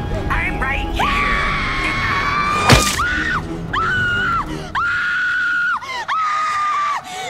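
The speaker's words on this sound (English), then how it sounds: "You could tell she nailed that audition because of her scream." A woman screams in the horror film Jack Frost 2, a string of long, loud, sustained shrieks broken by short gaps and a sharp impact partway through.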